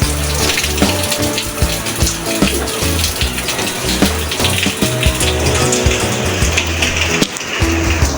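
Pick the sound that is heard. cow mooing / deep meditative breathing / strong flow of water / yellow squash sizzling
strong flow of water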